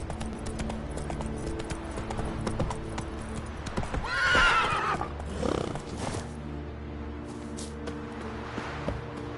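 Hooves of the horse Roach clip-clop at a gallop in The Witcher 3, with a loud whinny partway through over a low, steady game ambience.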